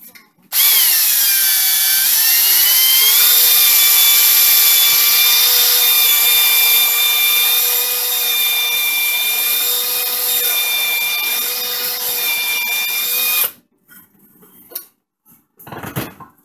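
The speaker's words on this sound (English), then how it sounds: "Come in with a drill." A power drill spins a chamber brush loaded with WD-40 inside an AR-15 chamber, a loud steady whine that rises in pitch as it spins up, holds for about thirteen seconds, then cuts off abruptly, followed by brief handling noises.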